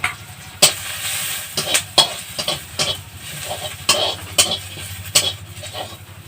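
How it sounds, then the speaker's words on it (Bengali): Onion, dried red chillies and cumin sizzle in hot oil in a home kitchen, with repeated sharp scrapes and clinks of a spoon stirring the pan over a steady frying hiss, close and fairly loud. "তো এগুলো ভাজাটা হচ্ছে।"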